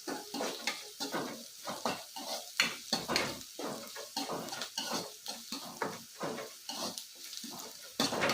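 Fenugreek leaf sabji sizzles gently in a pan while a spoon stirs it in quick repeated scrapes and taps, close and steady throughout.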